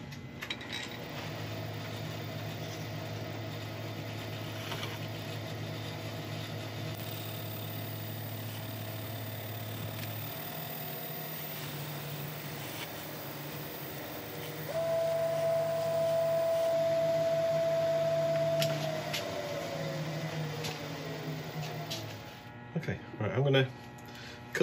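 A wood lathe spinning a turned yew, cardboard and resin piece while finish is applied, a steady low motor hum with a tone that shifts midway and a faint rubbing, with people talking over it.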